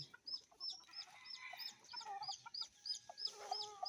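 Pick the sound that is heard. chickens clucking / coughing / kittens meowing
chickens clucking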